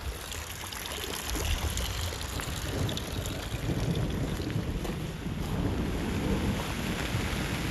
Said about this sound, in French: J'en profite qu'il pleut un peu pour vous montrer la serre.